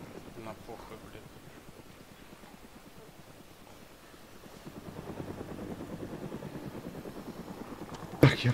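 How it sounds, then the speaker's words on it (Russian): Helicopter flying over the Chernogorsk area in DayZ, a steady rhythmic rotor chop that swells louder midway through, with a brief sharp noise near the end. "Вертолет в черно просто летает."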